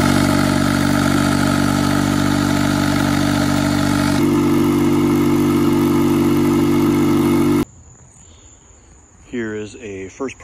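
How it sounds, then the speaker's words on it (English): An electric air pump inflating a Hobie iTrek 9 inflatable kayak drones loudly and steadily, its pitch dropping slightly partway, then cuts off abruptly, leaving quiet room tone and a brief voice. "But I will show you using this alternative electric pump."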